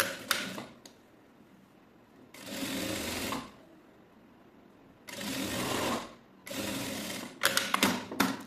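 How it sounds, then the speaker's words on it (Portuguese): A sewing machine runs in three separate bursts, stitching a folded fabric strip, with quiet pauses between runs and a few short quick stitches near the end; nobody speaks. "Vou passar uma costurinha aqui com um pé de máquina."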